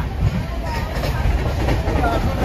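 Train running, heard from inside a carriage, a loud steady low rumble and rattle of wheels on track, with voices chatting beneath the noise.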